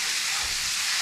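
Chicken browning in a black skillet, giving a steady, dense sizzle with no break over about a second.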